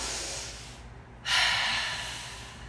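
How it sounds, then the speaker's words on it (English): Loud, deep exhale during a Pilates breathing exercise, a forceful breathy rush close to the mic that follows a quieter inhale and fades out gradually, with no talking over it. "make a Darth Vader noise as you're exhaling."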